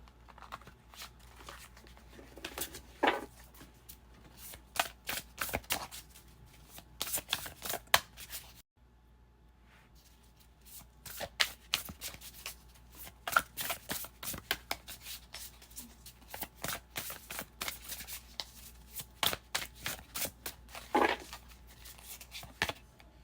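Tarot cards shuffled by hand in repeated bursts of crisp riffling and rustling, broken by a brief pause, close and fairly quiet with no talking.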